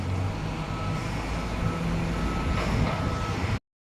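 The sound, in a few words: Kalmar container handler machine beeping and lifting a container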